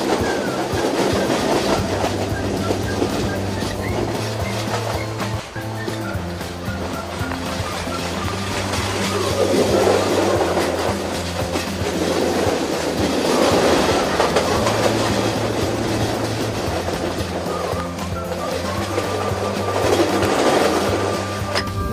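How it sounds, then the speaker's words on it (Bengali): The Parabat Express passenger train from Dhaka to Sylhet speeds along, a loud continuous rumble with steady clickety-clack of wheels over rail joints and a rushing wind-like roar, heard from onboard with no talk. "দুর্দান্ত গতিতে ছুটে চলছে ট্রেন।"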